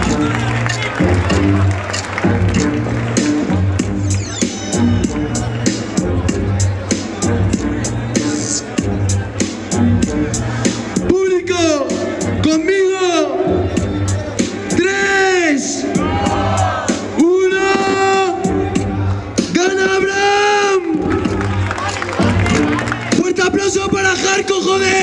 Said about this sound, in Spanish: ¡Fuerte aplauso, joder!